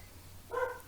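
A single dog bark, short and fairly faint, rising briefly out of quiet room background with no one talking.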